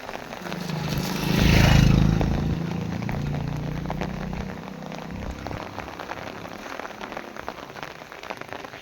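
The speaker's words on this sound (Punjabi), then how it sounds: "ਫੇਰ ਸ਼ੁਰੂ ਹੋ ਗਿਆ ਸਟਾਰਟ ਹੋ ਰਿਹਾ ਮੀਂਹ ਪੈਣਾ" Continuous rain starting to fall and pattering on surfaces in Punjab farmland, with a low rumbling engine swelling and fading early on, then the rain carrying on alone.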